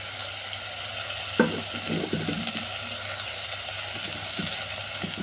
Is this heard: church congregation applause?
no